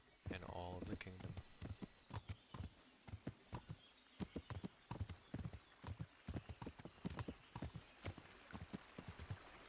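Horse hooves clip-clop in a quick, uneven rhythm close by in the video game Kingdom Come: Deliverance, with a brief whinny near the start.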